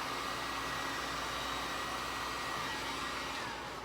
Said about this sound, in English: it's texturing up when I hit it with the heat gun.